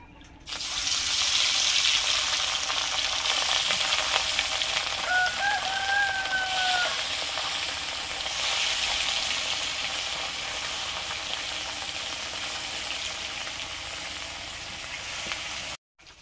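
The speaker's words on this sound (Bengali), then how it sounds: "কড়াইতে সর্ষের তেল দিয়েছি, মাছগুলো ভেজে নেব।" Fish fry in hot mustard oil in a wok, giving a steady close sizzle throughout, with a brief rooster crow in the background partway through.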